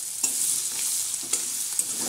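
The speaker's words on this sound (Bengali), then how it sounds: "এটা একটু ভেজে নেব। দেখো, আমার একটু ভাজা হয়ে গেছে" A fish head fries in a pan, giving a steady, close sizzle broken by a few sharp stirring scrapes.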